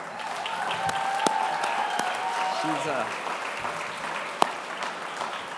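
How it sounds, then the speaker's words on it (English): An audience at a disability summit applauds in a long, steady wash of clapping from a large crowd, with a few sharp louder claps and faint cheering mixed in. "How about a big round of applause for Lori?"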